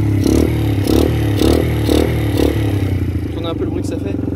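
A Honda Grom motorcycle engine fitted with a Motrac Urban Sound exhaust revs up and down in pulsing bursts at high rpm, loud and close, then settles to an idle rumble while someone speaks over it.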